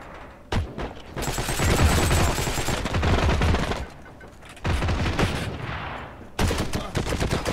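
Sustained, loud gunfire from the multiplayer war game Heroes & Generals: dense automatic bursts and sharp shots crackle almost continuously, broken by brief lulls, with no talk over them.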